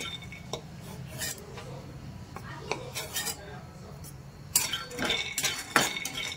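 A few peanuts dry-roasting in a pan for a raw mango chutney, with scattered metallic clinks and scrapes of a spoon stirring against the pan over a low background rumble; no talk.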